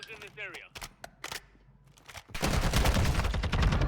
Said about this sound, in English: Oh, wait, I'm getting shot from somewhere else.